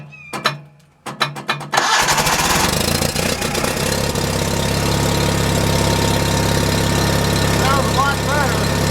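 A John Deere 316 garden tractor engine, choked after carburetor work, cranks with rapid chugs and catches. It settles into a loud, steady, rough idle close by, with a voice briefly over it.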